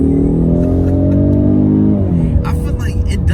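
A Honda Type R engine holds a loud, close, steady droning note, then the pitch falls away as the revs drop, with faint noises over the tail end.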